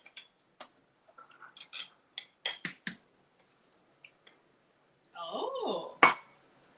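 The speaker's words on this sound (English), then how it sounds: "go ahead and get an egg and crack it in there and stir" An egg is cracked into a glass jar and stirred, giving scattered light clinks and taps on the glass, then a short busy stretch of stirring that ends in one sharp clink, with a brief voice nearby.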